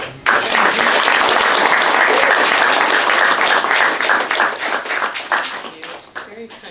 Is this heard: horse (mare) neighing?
no